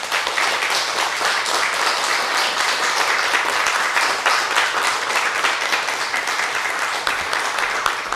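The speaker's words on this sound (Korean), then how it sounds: "환영의 박수." Welcoming applause fills a Korean Sunday church service as a new chairman comes forward, dense steady clapping from a large congregation that holds at an even level throughout.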